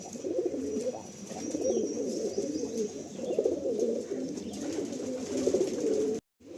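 Pigeons at a loft in Kanchrapara coo continuously in a low, overlapping murmur, close by and fairly soft, ending in a brief cutoff.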